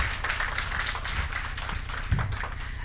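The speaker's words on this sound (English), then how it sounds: "He deserves a better round of applause." Scattered clapping from a modest audience at a policy round table, brief and uneven, with a few sharper claps standing out over a room murmur.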